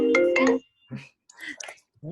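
A phone's ringtone sounds briefly and clearly at the start as a short tonal electronic melody, then stops. A voice follows in short spoken bursts.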